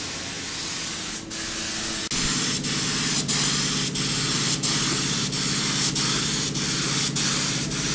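A spray gun lays paint onto a Kenworth truck, a loud, continuous close hiss that intensifies after two seconds, with faint regular clicks and knocks in the background.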